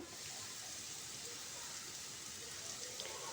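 Potato and egg with chopped onion fry in a pan, giving a faint, steady, hissing sizzle with no pauses.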